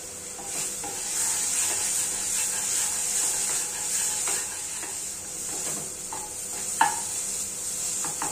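Spices with Kashmiri chili powder fry in a pan, giving a close, constant sizzle broken by soft scraping stirs and a few sharp utensil clicks.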